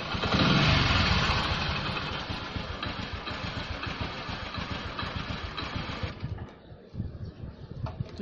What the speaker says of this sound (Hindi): मैं दोबारा स्टार्ट कर रहा हूँ बाइक को।